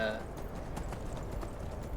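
Horse hooves clip-clop at a steady walking rhythm in the game Skyrim, fairly quiet and evenly paced, with someone talking over them.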